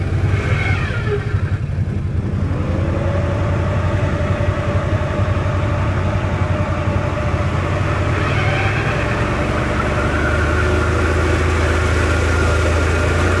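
A Can-Am Outlander 1000R ATV on 34-inch tires, built for backcountry mud and running in two-wheel drive, drives through a mud hole with a steady, loud engine drone and slight pitch shifts as it pushes through.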